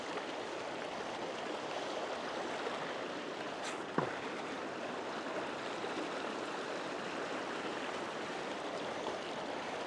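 Water rushes steadily through a gold prospecting sluice bazooka, a continuous broadband flow holding even throughout, with one brief sharp tick near the middle.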